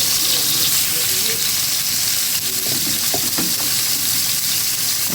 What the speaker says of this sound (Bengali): এখানে যে মাছ ফ্রাই করা হচ্ছে